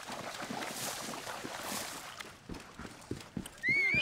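Horse from Assassin's Creed Origins whinnies near the end after a stretch of busy game noise and hoof-like thuds, the neigh rising loud and close over the final half second.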